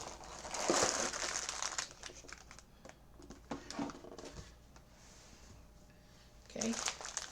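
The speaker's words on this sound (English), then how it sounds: "We're back to the old plastic bags for this one." Plastic bags of Lego pieces crinkle and rustle close by in short bursts, with quieter handling sounds and rattling in between.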